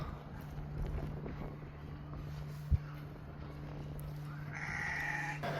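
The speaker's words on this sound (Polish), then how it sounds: "Market z kozami." Goats at an outdoor market in Somalia, with a short bleat rising near the end over a steady low engine-like hum, light wind and a single sharp knock midway.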